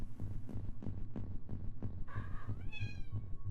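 A pet cat meows twice in a row, close and clear, over a steady low pulsing hum like a heartbeat-style background throb in a quiet room; no talk.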